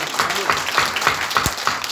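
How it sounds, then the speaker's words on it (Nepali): A church congregation clapping loudly together during a sermon, a close, dense burst of applause with a steady rhythmic beat throughout. "एकपल्ट जोरदार ताली बजाएर परमेश्वरको महिमा गर्न"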